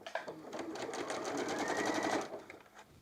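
A sewing machine fitted with a size 80/12 universal needle stitches quilt pieces in one steady, quiet run of rapid whirring and ticking for about two seconds, close by.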